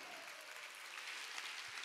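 Steady, dense applause from a large congregation at a church revival meeting, sustained and even throughout with no gaps.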